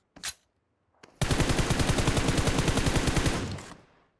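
Sustained automatic gunfire in PUBG Mobile, a short crack and a brief shot first, then a dense rapid burst of shots lasting over two seconds, loud and close with no talk.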